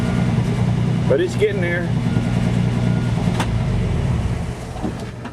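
Steady idle of a 1963 GMC truck engine running on new gas with fresh plugs and a carburetor still needing tuning, a continuous low rumble throughout with a brief spoken remark over it.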